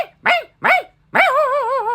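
A person's voice imitates a small poodle barking: two short yapping barks followed by a longer, wavering whine-like bark, close and clear with no other sound.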